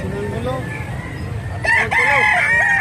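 A rooster at a chicken market crows loudly and close, a long strained call rising over a busy background of other fowl and faint voices.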